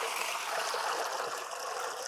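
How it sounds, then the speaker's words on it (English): Water pours into a large tub while local beer is brewed in Uganda, a steady splashing, gurgling stream, close and continuous without a break, heard alone with no talking. "then the water is added into this bigger tub here"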